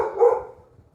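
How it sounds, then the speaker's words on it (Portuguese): A dog barks once nearby, a single short bark that fades quickly into quiet background. "peço perdão pelo cachorro que está latindo aqui do lado"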